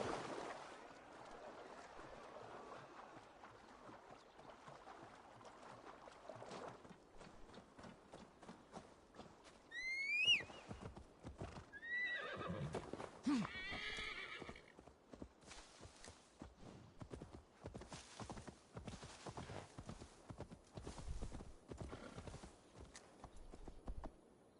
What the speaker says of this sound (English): gonna ride my horse all the way there.